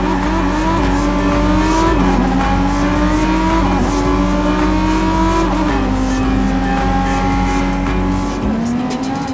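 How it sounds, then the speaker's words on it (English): A car in the open-world video game Watch Dogs 2 crosses the Bay Bridge, its loud engine droning and shifting through rising gear changes with occasional tire squeal, continuous throughout with no talk. "We can get there by driving across the Bay Bridge together."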